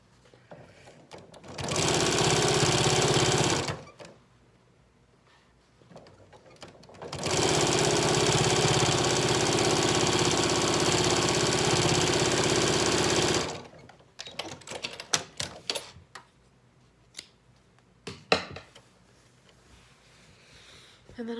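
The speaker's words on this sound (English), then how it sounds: "I'll do one more top stitch down here in the bottom" A sewing machine runs top stitching on a Yup'ik qupak in two long steady bursts of about two and five seconds, loud and close, then stops. Short clicks and handling taps of the fabric and machine follow.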